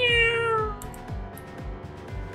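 A voice imitates a cat meow in a long drawn-out falling wail, close and loud, over game background music with a regular beat.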